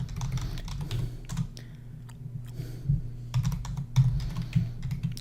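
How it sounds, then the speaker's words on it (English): Typing on a computer keyboard, bursts of quick close clicks and key taps separated by brief pauses, fairly quiet with no talk. "If I can type."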